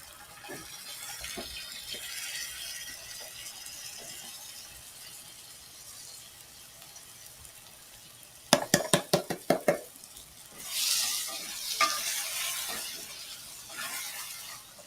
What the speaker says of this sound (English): we're stirring in the black beans and their juice